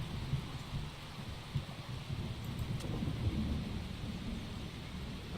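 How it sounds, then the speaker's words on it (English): A thunderclap in a rainy thunderstorm during a Motorsport Manager race start, heard as a deep rolling rumble over steady rain and wind hiss, continuous and fairly loud with no talk. "A huge clap of thunder there."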